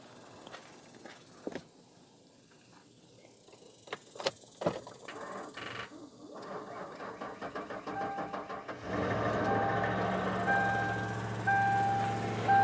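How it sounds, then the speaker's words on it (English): A car engine, helped by a jump starter, cranks in a few sputtering attempts before catching and settling into a steady, moderately loud idle. "it didn't want to start for a minute there. Now that I got it started, I can disconnect it."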